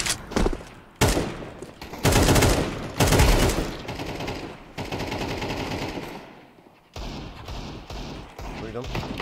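Bursts of AK rifle gunfire in a shooter video game, loud rapid automatic volleys and single shots with thumps between, dense and continuous across the clip.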